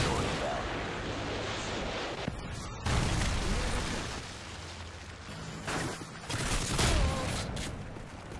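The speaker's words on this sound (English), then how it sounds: "Friendly predator missile inbound." A predator missile strike blasts in a Modern Warfare 3 online match amid heavy, continuous booms and gunfire, with loud surges of explosions near the middle and end.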